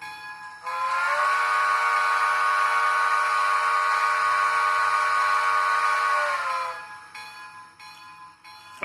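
Model train horn sounding one long, sustained multi-tone blast of about six seconds, loud and alone, then cutting off into quiet background.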